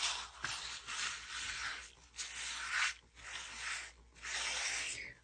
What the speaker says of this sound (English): then I can rub the napkin a little harder than I would if it wasn't there